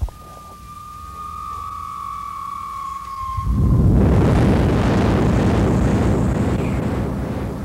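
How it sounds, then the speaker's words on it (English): A bomb explosion in a war zone bursts in around the midpoint as a loud, sustained broadband roar that rumbles on to the end, following a quiet stretch with a steady high tone. "I'm sure glad that bomb hit somebody else if it had to hit anybody"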